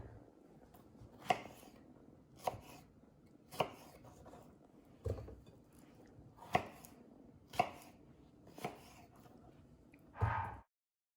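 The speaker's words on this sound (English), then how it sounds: "I might just cut them into quarters before I put them into the pot." Knife slicing through big strawberries into quarters on a board, eight or so distinct soft thuds spaced about a second apart, close and quiet with a faint wet squish between cuts and no talk.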